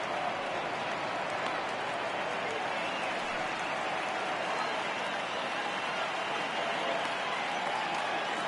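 A stadium crowd of over 39,000 at a baseball game roars steadily with cheers and applause, a dense, continuous wash of noise that holds at an even level throughout.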